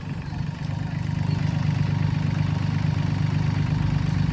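A Solis 26XTRA compact tractor's Mitsubishi diesel engine idles steadily, a low, even rumble with a faint rattle, close by and unchanging.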